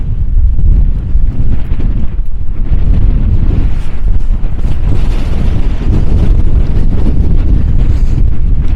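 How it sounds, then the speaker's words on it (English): Strong gusts buffet a camera microphone outdoors on a hike of the Tablelands in Newfoundland, a loud, continuous low rumble and roar that swells and dips throughout with no talking. "So this is probably the windiest day. I've used this camera setup, so it's a good test of the mic"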